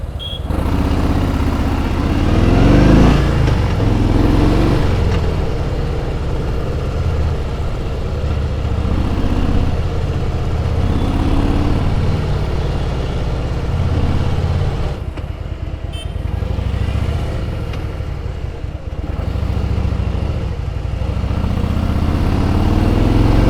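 A motorcycle engine revs up and down repeatedly, loud and close, its pitch rising and falling in waves with no talking.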